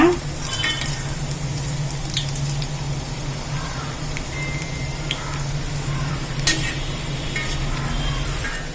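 Lentil vada, paruppu urundai, frying in hot oil as they are flipped, a steady close bubbling sizzle with a few soft clinks and squishy turns, and one sharp clink near the end.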